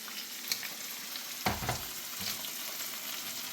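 Chopped tomatoes sauté with turmeric powder in a pan for egg noodles, giving a soft, quiet sizzle broken by a couple of brief stirring scrapes.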